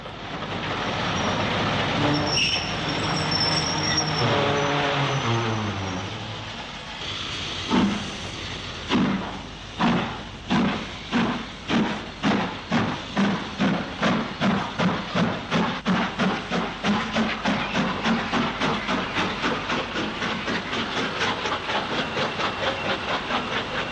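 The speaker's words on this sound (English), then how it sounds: "a passenger train from Leek to Uttoxeter arrives at Alton Towers" Steam tank locomotive 42369, a 2-6-4 tank, pulls a passenger train into Alton Towers station, first with a drawn-out whistle and hiss, then a loud, steady run of rhythmic exhaust beats that grows faster.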